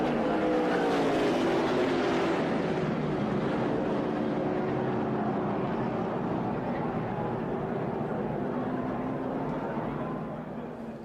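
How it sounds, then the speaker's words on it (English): NASCAR race cars roaring through a turn at Talladega in the Yellawood 500, a dense pack of engines droning loudly together with shifting pitches, fading toward the end, with a voice talking over it. "See how these cars are turning?"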